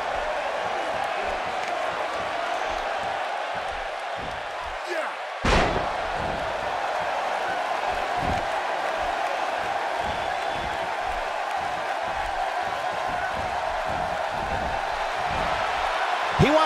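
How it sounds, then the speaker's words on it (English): Wrestling-arena crowd in WWE 2K18 roars with excitement, a steady loud cheering wash carrying on throughout, punctuated by a sharp slam or thud around the middle and commentary voices underneath. "I don't think I've ever heard this Uniondale crowd more excited for a match."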